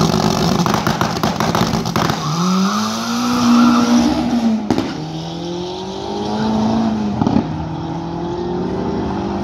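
Drag racing car at an Ourinhos dragstrip event, engine climbing in pitch under hard acceleration with abrupt drops at each gear shift, loud and sustained with tire noise throughout.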